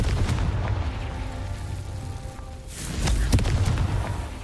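Confringo blasting spell detonations in Hogwarts Legacy give a dull rumbling boom under steady game ambience, then a second louder, sharper burst with crackling pops that settles back into low rumble.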